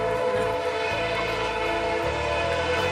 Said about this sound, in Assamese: তাতে ৰেলখন আহিছিলে, তাতে ভিডিঅ' অলপ মানে কৰি থ'লোঁ